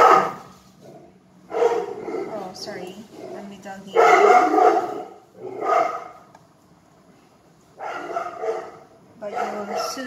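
A polite pet dog barks in a home kitchen while a pork tenderloin is being cooked, giving several short bursts spread through the stretch, fairly close and moderately loud, with brief quiet gaps between them.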